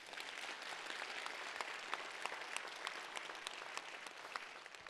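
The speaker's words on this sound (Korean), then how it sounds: "이러면 박수 한번 쳐야지." A church congregation claps during a Sunday evening sermon at a revival service. The applause is faint and distant, a steady wash of many hands without speech.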